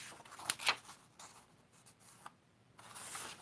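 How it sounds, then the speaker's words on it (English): Navy blue cardstock being cut down for a card border, soft close scraping and rubbing strokes in short bursts, with a couple of sharper ticks early on, all quiet. "it's navy blue, but I'm going to cut this down."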